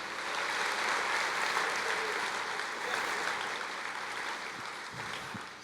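A church congregation applauds in a steady wash of clapping that begins full and slowly thins toward the end, heard at moderate distance with no speech over it.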